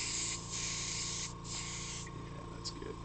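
A paint sprayer, likely an airbrush, hisses in close, steady bursts for a few seconds over a faint background hum.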